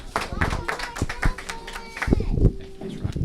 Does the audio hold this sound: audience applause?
yes